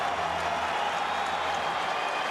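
A tennis crowd at Rod Laver Arena rises in applause during the Australian Open final, a dense, even roar of clapping hands filling the whole stretch without letup.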